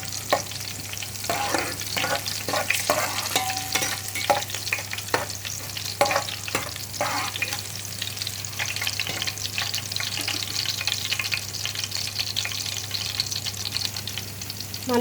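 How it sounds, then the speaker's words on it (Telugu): Chopped green chillies frying in hot oil for a chicken curry: a constant sizzle under busy, rhythmic ladle clatter and scraping against the pan, with a low steady hum beneath and no speech. "పచ్చిమిర్చి ముక్కలు చక్కగా వేసుకున్నాం ఆయిల్లో"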